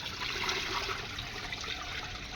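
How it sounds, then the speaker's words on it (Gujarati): Rice is rinsed by hand in water, a continuous soft sloshing and trickling of liquid close by, even and unbroken, with no one speaking. "તો આ ચોખા છે ને 3-4 પાણીએ ધોઈ નાખું"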